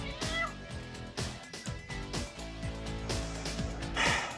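Several drawn-out cat meows, fairly close, rising and falling in pitch and overlapping a busy bed of music and background sound.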